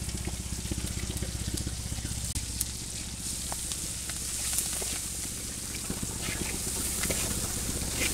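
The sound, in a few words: onion, garlic and chili frying in a pan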